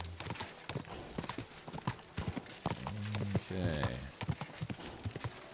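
Horse hooves clip-clop in a steady riding rhythm in Kingdom Come Deliverance 2, continuing under a man's speech, with a brief horse whinny or snort midway.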